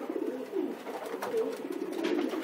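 Homing pigeons in a loft cooing softly and continuously, several overlapping low warbling coos close by, with no one speaking.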